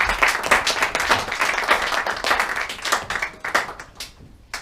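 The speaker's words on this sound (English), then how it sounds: "Big round of applause, please." Enthusiastic audience applause at a clown performance event, dense and sustained clapping from a crowd for several seconds with no talk over it.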